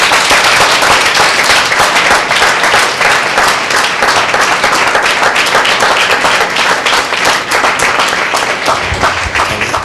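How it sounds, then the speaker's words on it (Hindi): A church congregation in a Hindi-speaking service bursts into loud, dense applause, many hands clapping continuously and close for the whole stretch, with no speech on top. "वे जोरदार ताली देंगे परमेश्वर के नाम पे"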